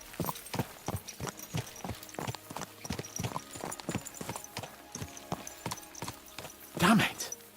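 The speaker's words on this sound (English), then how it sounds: "Let's really spur these horses on, eh?" Horses trot in Kingdom Come Deliverance 2, a clear evenly spaced run of close clip-clopping hoofbeats, with a horse's snort or whinny late in the sequence and a voice speaking in between.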